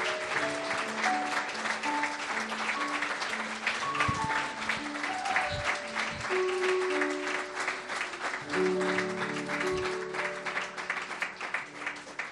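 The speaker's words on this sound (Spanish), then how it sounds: "A ti, mi Señor, te damos un aplauso grande." A church congregation applauds during a Sunday worship service while sustained organ or keyboard chords play underneath, the clapping steady and fairly soft for the whole stretch.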